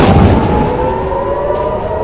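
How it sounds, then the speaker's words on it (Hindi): An air raid warning siren sounds over Jerusalem during an Iranian missile attack on Israel, a steady loud wailing tone with a broad roar of noise beneath it, continuous throughout. "यरूशलेम में लगातार खतरे का सायरन बज रहा है"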